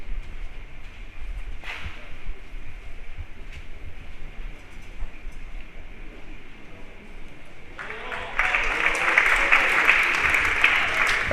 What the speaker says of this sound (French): les applaudissements sont pour le joueur local qui a réussi à faire entrer sa boule dans le cercle